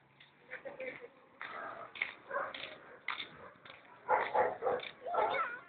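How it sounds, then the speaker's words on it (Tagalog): A dog gives irregular whimpers and short barks up close, some bursts higher and whinier, with people talking nearby. "Kaya may aso."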